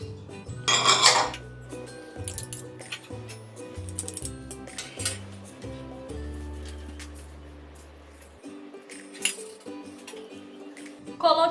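Chopped onion, tomato and other filling ingredients for beef esfiha tumble into a bowl with clattering clinks and scrapes against the dish, under a faint steady background hum.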